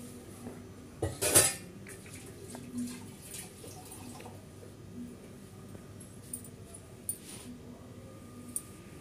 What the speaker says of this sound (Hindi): अब मैं देखो भाई मांज रही हूँ बर्तन।